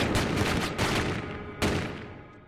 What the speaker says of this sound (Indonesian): seluruh polisi di sana langsung menembaki anak itu dan mati di tempat